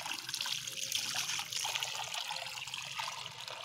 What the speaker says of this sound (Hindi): इसका भी इसमें भर देता हूँ पानी